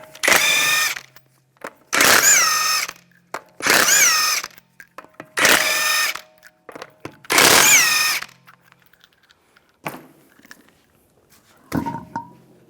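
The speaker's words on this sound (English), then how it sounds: "remove the wheel, use a 19mm socket, take the lug nuts off." An impact tool fitted with a 19mm socket takes the lug nuts off a 2011-2015 Chevrolet Cruze front wheel. Five loud whirring bursts of about a second each are separated by short gaps, followed by faint clanks.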